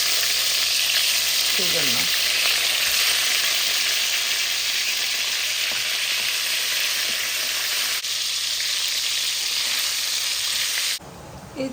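Fish coated with turmeric sizzles steadily in hot oil in a home kitchen, a loud continuous frying hiss that fills the whole clip, with a few brief words spoken over it.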